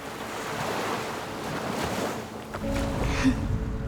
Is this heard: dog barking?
no